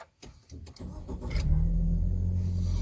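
DFSK Glory 580 Pro SUV engine starting after a few clicks and clunks, then catching and settling into a steady close idle rumble.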